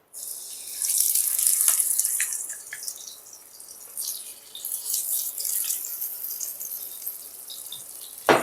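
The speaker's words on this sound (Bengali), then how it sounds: "এরপর আমি মাছগুলোকে ভেজে নেবো" Mrigal carp fish fry in about three spoons of hot oil, sizzling and crackling steadily with a bright hiss, swelling and easing over several seconds, no talking.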